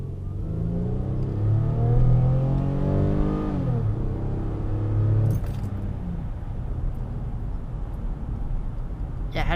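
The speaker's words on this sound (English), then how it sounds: "I had to get a little bit of acceleration in there" Car accelerating hard, engine note climbing through gears with a clear rising sweep, a gear change, then a second climb before settling into a quieter cruising hum.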